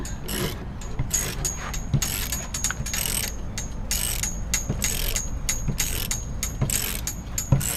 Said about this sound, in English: Nick's taking off the old bushing, the set of jaws from Harbor Freight.